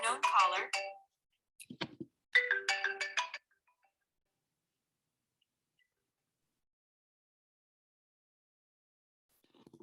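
Phone ringtone from an unknown caller, two short bursts of tonal chiming in the first few seconds, fairly close, then near silence with a faint sound at the very end.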